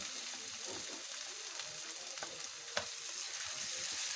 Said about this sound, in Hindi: इसको भी 1 मिनट के लिए हम इसके साथ भूनेंगे